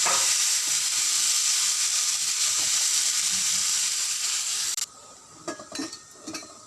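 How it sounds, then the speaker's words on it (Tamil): Orange peel pickle with turmeric simmers and sautés in a pan, giving a loud, steady close-up hiss and sizzle that cuts off after about five seconds, followed by a few soft utensil clinks and stirring sounds. "கொஞ்ச நேரம் வேகுது லைட்டாக வதங்குது"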